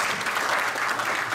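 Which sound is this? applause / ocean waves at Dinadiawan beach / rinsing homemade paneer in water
applause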